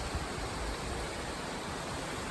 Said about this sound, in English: So here's a little close-up of our waterfall